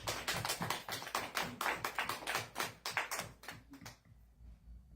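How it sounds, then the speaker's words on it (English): A small audience claps for two guest speakers at the start of a meeting, a dense burst of hand claps that goes on for about four seconds and then stops abruptly, leaving a quiet room. "Could we give them a round of applause?"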